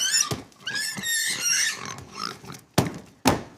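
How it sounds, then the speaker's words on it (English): A pig oinks and squeals loudly and up close, with several sharp grunting bursts and a couple of abrupt snorts toward the end. "catch that pig!"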